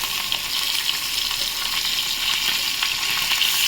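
Hilsa fish pieces frying in hot oil with black cumin, giving a steady, loud, close sizzle that runs unbroken throughout with no talking.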